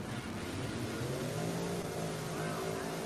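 Drag race cars at the E2 Eliminations World Cup Finals roar steadily through the top end, a dense, continuous engine blast with commentary underneath.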